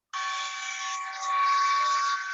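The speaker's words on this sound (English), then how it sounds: "That's your Bitcoin miner going crazy." A steady, loud whooshing whine of high-speed fans on a Bitcoin mining rig starts abruptly and holds, with a thin tonal hum riding on top.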